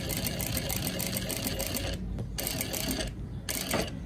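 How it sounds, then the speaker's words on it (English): A home sewing machine runs steadily, sewing long basting stitches along piping cord, its rapid mechanical whir close and continuous with two brief pauses near the end. "So I'm just gonna bring my needle down and just do my basting stitches."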